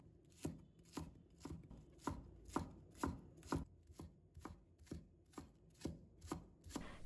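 A knife chops scallion whites into small pieces on a cutting board, about a dozen crisp, evenly spaced strikes at a steady rhythm, close and alone with no talk.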